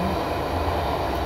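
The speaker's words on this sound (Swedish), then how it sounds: "Vi åker på tåget." Steady rumble and rattle inside a moving train carriage in Sweden, a continuous dense roar throughout with no speech.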